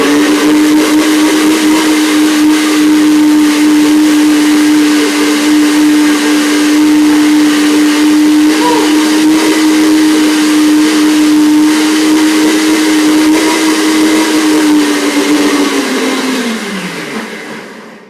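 Blender running steadily on dates and tart ingredients, a loud close motor whine holding one pitch for about sixteen seconds before winding down and stopping.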